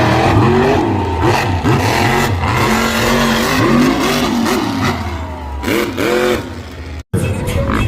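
Monster trucks racing in an arena, engines loudly revving in repeated rising and falling surges, near and continuous, with a brief dropout just before the end.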